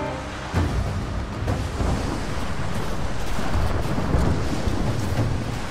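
An approaching thunderstorm in Rise of the Tomb Raider rolls on with deep, continuous thunder rumbles and heavy rain, loud and enveloping throughout with surging bursts.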